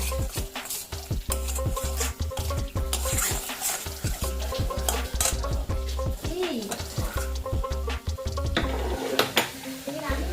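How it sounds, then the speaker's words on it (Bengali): Meat sautés and is stirred in a pot of spiced masala for home-style haleem, giving a loud continuous sizzle with repeated scraping and clanking of a spoon against the metal pot. "এরপরে আমরা মাংসটাকে দিয়ে ভালো মতন সটে করব।"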